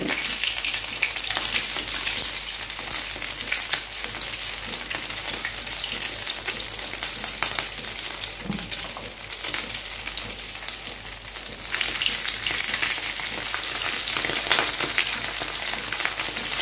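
Stuffed mumbar sausages frying in oil in a pan, a loud, continuous crackling sizzle that swells slightly near the end, with no talking.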